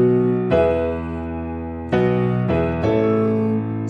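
Piano playing the full-band shots from a song: four sustained chord hits, the last two close together, each ringing out with rich harmonics, loud and alone.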